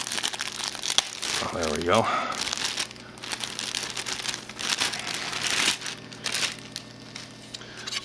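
Crinkling and tearing of taped packaging being pulled open to reach a blue faceplate, bursts of plastic rustle close by, with a person talking over the handling.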